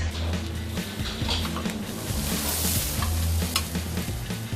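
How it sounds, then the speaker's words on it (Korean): Korean beef tteokgalbi patties made from Hanwoo short rib grill over charcoal while being brushed with soy sauce marinade, giving a steady, close crackling sizzle with low rumbling underneath throughout, with no voices. "따로 간을 하지 않은 떡갈비는 구우면서 간장 양념을 입혀줍니다"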